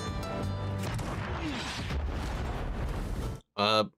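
Wartime movie combat scene with heavy gunfire and explosions: a dense, rumbling barrage of blasts and crashes for several seconds, cutting out abruptly before a brief burst of louder sound at the end.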